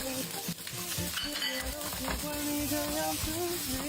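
Egg stir-fried with waipo cai and chili in a wok, a dense sizzle with busy scraping and stirring throughout, fairly quiet, over steady tonal sounds in the background.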